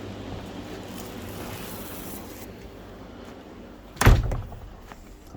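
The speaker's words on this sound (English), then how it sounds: "turn my light off, shut my door behind me," After a few seconds of quiet room hiss, a single door shuts with a sharp, solid thud near the end, ringing briefly before fading.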